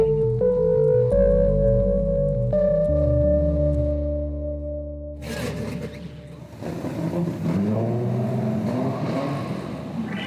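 A car accelerates hard on the Saudi Arabia F1 circuit, its engine pitch climbing through stepped gear changes before roaring and fading into wind and road noise, with brief voices near the end.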